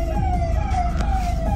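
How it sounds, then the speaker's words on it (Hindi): A vehicle siren blaring up close during a send-off convoy, a loud steady wailing tone over low engine rumble, continuous throughout with no talking. "पूरे सायरन के साथ साथ"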